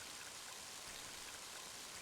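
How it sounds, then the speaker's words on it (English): In the video game Mother 3, heavy rain hisses in a dense, steady wash, soft and even throughout the short stretch, with no voices. "Mighty heavy rain, isn't it?"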